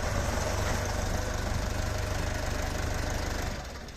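A tractor's diesel engine idles steadily with a low, rhythmic knocking throb, close and continuous, easing slightly at the end.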